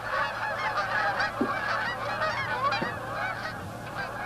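A flock of geese honks and gabbles continuously, many overlapping calls at moderate distance with no voices over them.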